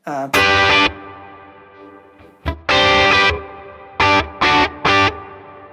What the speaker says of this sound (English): So that's the reverb in the back you can hear. That's the post effects reverb.